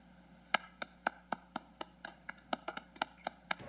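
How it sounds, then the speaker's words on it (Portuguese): A few hands clap in a court plenary session honouring minister Oscar Dias Corrêa, with distinct, sparse, slightly irregular claps that sound faint and thin against a quiet room hum. "O ministro Luiz Fux aplaude."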